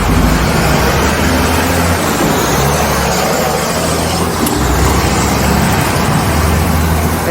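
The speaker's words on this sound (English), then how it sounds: "that was a very loud construction truck that just walked by" A heavy construction truck rumbles loudly past at close range, its deep engine roar and road noise filling the whole stretch without a break.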